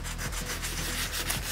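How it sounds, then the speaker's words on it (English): Cured resin is sanded by hand to remove ridges, producing a close, continuous abrasive rubbing with quick back-and-forth strokes in a steady rhythm. "So we just wanna keep sanding until it's perfectly smooth and there's no trace of those ridges left."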